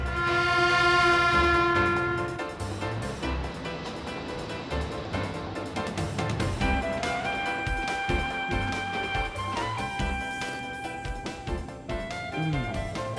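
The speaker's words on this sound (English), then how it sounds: "You can't even feel the train shaking in first class." A train rolls along its rails in an anime, with a sustained horn-like tone at first and then a steady rumbling, clattering run mixed with music throughout.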